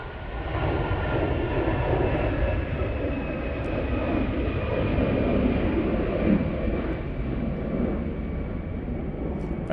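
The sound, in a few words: Aer Lingus Airbus A320 jet departing Manchester Airport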